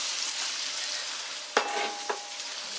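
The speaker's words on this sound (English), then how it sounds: "Just going to stir that round." Lamb curry spice mix sizzles steadily in hot oil while being stirred, with a couple of sharp spoon-on-pan knocks standing out partway through.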